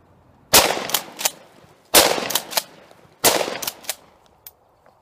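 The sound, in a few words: Remington 870 20 gauge shotgun shots at soccer ball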